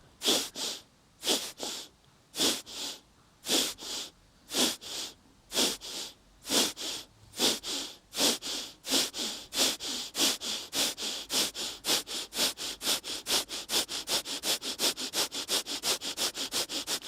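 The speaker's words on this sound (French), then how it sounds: "j'inspire, j'expire, j'inspire à nouveau" Rhythmic breathing during a yoga breathing exercise, sharp nasal sniff-like breaths that start slow and spaced, then speed up into a fast, even pulsing series, close and clear with no talking.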